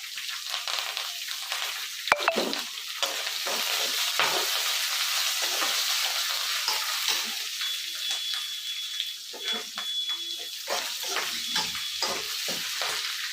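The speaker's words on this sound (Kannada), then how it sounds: "ಒಣೆ ಮೆಣಸಿನ್ಕಾಯಿನೂ ಹಾಕೊತಾ ಇದ್ದೀನಿ ಹಸಿರು ಮೆಣಸಿನ್ಕಾಯಿನೂ ಹಾಕ್ಕೊತಾ ಇದ್ದೀನಿ ಸ್ವಲ್ಪ ನೋಡಿ ಹಾಕ್ಕೊಳ್ಳಿ ಪಟ ಪಟ ತಿಳಿಯುತ್ತೆ" Dried red and green chillies fry in hot oil for Shivamogga-style lemon rice, a close steady sizzle with crackling pops and stirring scrapes, and a sharp clatter early on.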